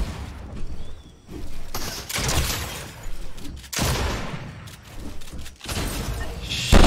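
Gunfire in a video game comes as dense, loud bursts of rapid shots and booms, with short gaps between volleys and a final sharp blast.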